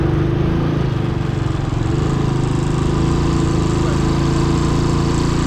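Steady engine rumble from a vehicle on the road next to a queue of trucks, a continuous low drone that stays loud and even, with no voices over it.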